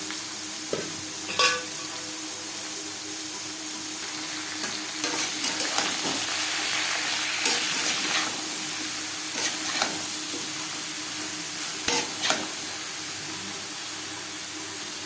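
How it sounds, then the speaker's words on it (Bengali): Bottle gourd frying in a pan with cumin seeds and dried red chili, a sustained close hiss of hot oil punctuated by sharp clacks and scrapes of a spatula stirring at irregular intervals, no speech. "তিন 4 মিনিট লাউ আমি হালকা করে ভেজে নেব।"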